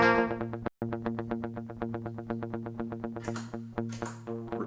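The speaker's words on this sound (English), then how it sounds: "The tape echo." Electric guitar played through a tape echo effect on a Headrush unit, a steady, rhythmic run of repeated plucked notes with echoes trailing behind, close and prominent with no voices.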